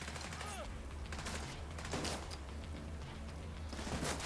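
Gunfire in The Division 2 video game crackles in several short bursts over a low steady background rumble, fairly faint, with brief speech-like sounds mixed in.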